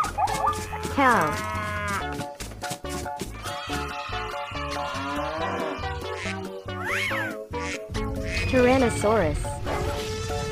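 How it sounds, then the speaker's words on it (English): A cow moos amid bright, bouncy music, with other animal calls and sound effects mixed in over a steady rhythm. "Cow."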